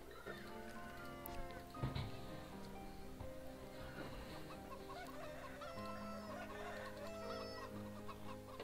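Chickens cluck repeatedly in the video game Divinity: Original Sin, soft rhythmic clucks and short squawks over a quiet ambient game background, with a louder burst near the start and no voices.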